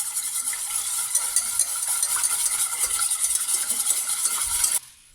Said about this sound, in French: On mélange comme il faut.